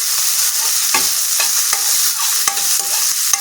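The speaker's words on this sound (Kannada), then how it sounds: "ಈರುಳ್ಳಿ ಗೋಲ್ಡನ್ ಕಲರ್ ಆಗೋವರೆಗೂ ಫ್ರೈ ಮಾಡ್ಕೊಳ್ಳೋಣ." Onions frying in a pan give a loud, steady sizzle throughout, with occasional soft scrapes and clicks of stirring, and no voices.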